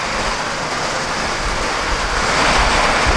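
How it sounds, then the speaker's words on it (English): Heavy rain pouring down outdoors in a sudden downpour, a dense, loud, continuous wash of broadband noise with no break and no voices. "it just started pouring down rain"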